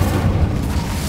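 An Incendio fire spell cast in Hogwarts Legacy lands as a loud, close, low booming burst that rumbles on without pause, heavy and dense with no voices over it.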